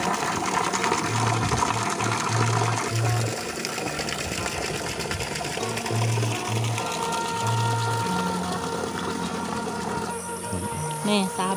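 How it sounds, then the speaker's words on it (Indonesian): Water splashing from a spout in the middle of a rice field in a rural Sundanese village in West Java, a continuous mid-level gushing under outdoor ambience, with a person talking intermittently nearby. "ada pancuran di tengah sawah."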